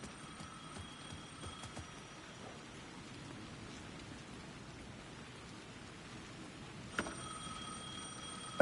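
In the game Alan Wake 2, a telephone rings in two separate bursts of a bright, steady electronic tone, one at the start and one near the end, moderately quiet over continuous pattering rain.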